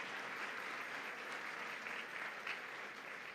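Dense, even crowd applause filling a church setting, steady clapping from many people at moderate distance with no break.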